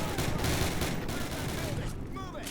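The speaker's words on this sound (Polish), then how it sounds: "Z okna skubany strzela." Enemy gunfire from a window in Call of Duty, a dense continuous crackle of shots blended with steady battle noise and background effects, sustained throughout at moderate loudness.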